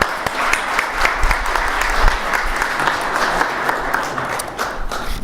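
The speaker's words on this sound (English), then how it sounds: "Please give a round of applause to Joseph Battlepour" Sustained applause from an evening audience at an art competition awards program, steady and fairly loud for the full stretch, with no voices over it.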